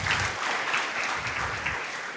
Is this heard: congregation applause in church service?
yes